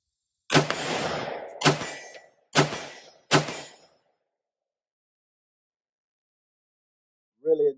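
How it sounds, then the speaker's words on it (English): A Sabre forged 13.7-inch mid-length 5.56 rifle firing .223 rounds at steel targets 50 yards out: four sharp, loud shots about a second apart, each with a ringing decay, then silence and a faint brief sound at the end. "let's go ahead and put some rounds at 50 yards"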